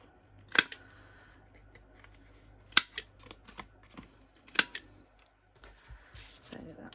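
Card corners are rounded with a corner punch on a handmade card project, including a mint card: three sharp, separate clicks spaced a couple of seconds apart, close by, with faint handling rustle between them and at the end.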